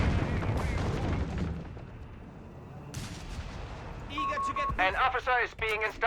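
Artillery shells bombard positions in a Company of Heroes 3 Wehrmacht versus British forces match, heavy rumbling impacts and gunfire in the first half, then quieter battle noise with tonal game effects and bursts layered over it.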